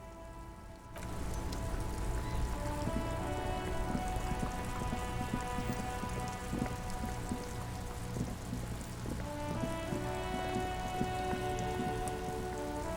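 Rain falls on a car stuck in a traffic jam in the video game Drunk Detective 2, a steady close patter over a low sustained tonal hum, continuing without any voices.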